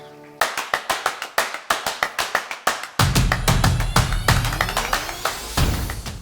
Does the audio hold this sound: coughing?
no